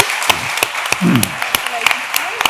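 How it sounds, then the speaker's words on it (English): Sparse applause from a small audience at a beauty school's Earth Jam 2025 event: scattered, separate claps spaced out over a couple of seconds, with a voice talking briefly in the middle. "another round of applause for Antoinette"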